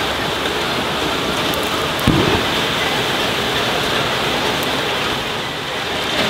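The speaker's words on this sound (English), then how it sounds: "It started pouring rain." Heavy rain pours down at an outdoor grilled fish restaurant in Jakarta, a dense, loud, continuous hiss with a brief thud partway through and no voices.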